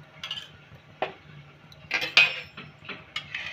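A spoon mixes salt, chilli powder and oil in a bowl, producing a handful of sparse, light clinks and scrapes against the dish, close and fairly quiet, with no talk.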